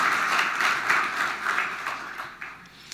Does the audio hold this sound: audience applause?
yes